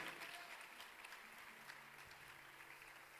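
Church congregation applauding after a sermon, a dense steady wash of clapping filling the whole moment with crowd noise behind it.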